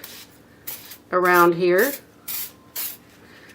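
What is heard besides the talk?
silicone spray being sprayed onto acrylic pour painting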